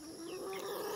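Chickens at a farmhouse poultry yard near an incubator, a short drawn-out cluck rising from a steady low background, alone and moderately close.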